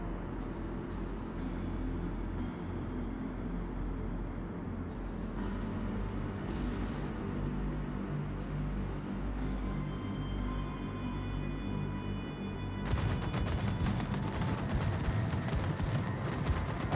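Naval gunfire from the battleship Ohio in World of Warships, booming salvos rolling under a steady battle din, with a louder, denser burst of firing near the end.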